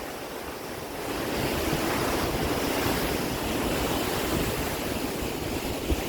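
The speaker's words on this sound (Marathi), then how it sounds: "मोठी ती लाट" A steady, broad roar of surf as a large ocean wave breaks and washes in on a beach in Ratnagiri, continuous and full with wind noise, no voices.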